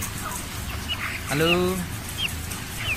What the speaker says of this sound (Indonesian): Ini ayam umur 30 hari.